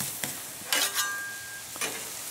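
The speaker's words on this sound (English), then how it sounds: "Got our griddle up to probably 450 degrees. Perfect for searing some steak." Steak sears on a hot Blackstone griddle at about 450 degrees, a faint steady sizzle with a few brief scraping or shifting bursts, with no talking.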